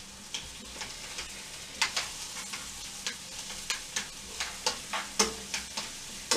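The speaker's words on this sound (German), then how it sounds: "Jetzt die Zwiebeln anrösten." Two onions sizzling in a pan, cooked for a Japanese-style miso bolognese, a steady close fry broken by regular sharp ticks and taps of stirring.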